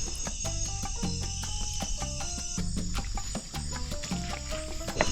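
Amazon jungle at night on a hike, with dense, pulsing insect and cricket calls layered with rhythmic chirps and croaks from animals, all continuous and steady throughout.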